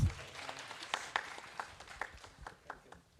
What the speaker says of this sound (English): Please show some excitement, clap.